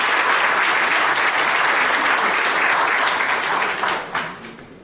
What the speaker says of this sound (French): nous pouvons applaudir pour monsieur Bimbio